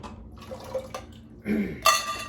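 Small splash of water poured into a simmering pot of Caribbean coconut pigeon peas, heard as brief close pouring and dripping bursts over a low steady background, without speech.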